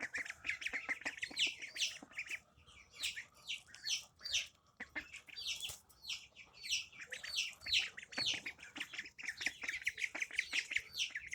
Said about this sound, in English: Definitely a variety of chicks.